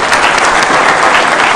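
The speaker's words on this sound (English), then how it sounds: "A round of applause for His Excellency." An audience at a Kenya–European Union business forum gives loud, sustained applause. The clapping is dense and continuous, with no pause.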